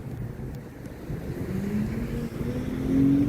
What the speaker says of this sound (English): Sounds like he was gunning that throttle.